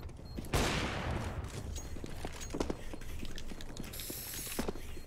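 Gunfire in a first-person shooter match, with sharp bursts of shots, a loud blast near the start and rapid clicking rattles following, all close and without speech.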